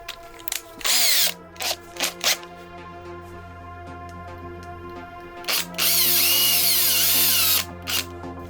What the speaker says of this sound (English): I'm only going to use a drill because it's just going to speed things up for the video.